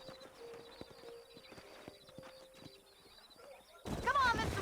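Horses clip-clopping in Red Dead Redemption, a steady rhythm of hoofbeats at moderate distance, joined near the end by a louder burst of talk or a whinny.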